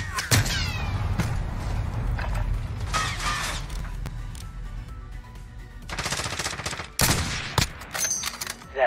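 Automatic gunfire and mechanical clatter in the battle royale shooter Warzone, loud bursts running almost continuously over game effects, with sharp cracks toward the end.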